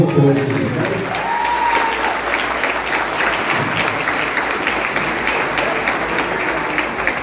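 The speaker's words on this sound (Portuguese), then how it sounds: "Eu peço uma salva de palmas para a igreja." Church congregation at an Assembly of God ordination of deacons in Icó applauds loudly and continuously, a thick even roar of clapping, with a voice briefly audible over it at the start.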